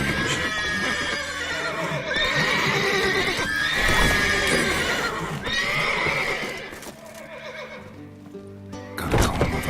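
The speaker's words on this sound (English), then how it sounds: "Gotta calm all the horses before they wake the guards." Several horses in a video game neigh and whinny loudly, with hooves clip-clopping in between, close and with no voices.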